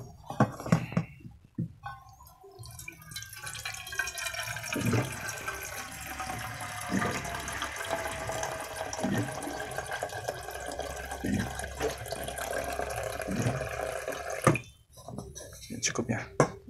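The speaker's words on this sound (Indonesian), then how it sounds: "Oke, kita kasih air dulu ya" Water poured into a cooking pot, a continuous splashing stream with a rising fill tone as the pot fills, someone speaking over it at the start and end.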